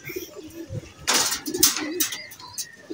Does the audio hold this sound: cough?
no